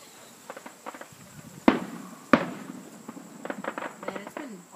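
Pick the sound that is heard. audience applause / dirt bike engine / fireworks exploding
fireworks exploding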